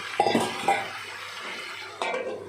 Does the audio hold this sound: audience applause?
no